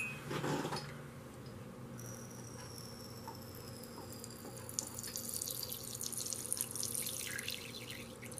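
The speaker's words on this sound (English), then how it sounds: "Let's see if I can draw it out with a couple drops of water." A couple of drops of water are poured at the entrance of an insect tunnel at feeding time, giving soft close dripping and trickling with faint patter over a steady background hum.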